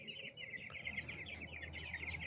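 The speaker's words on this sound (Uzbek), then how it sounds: "Bu qora xo'roz" A black rooster clucks and calls steadily at close range, a continuous run of throaty bird voicing with no talking over it.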